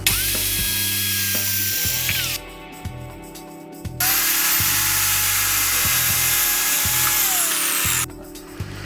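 A Triton TA184CSL precision circular saw cuts fir wood. Its motor whine runs in two long stretches, sagging in pitch as it winds down, over a steady low mechanical pulsing, with brief quieter gaps between the cuts.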